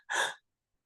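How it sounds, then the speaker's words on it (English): A single short, sharp breath drawn in during a breathing meditation, close and quiet, followed by silence. "2 quick inhales"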